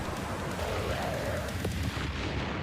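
A loud, dense anime explosion from One Punch Man Season 3 roars continuously, with crackling debris and rumbling low end filling the whole stretch.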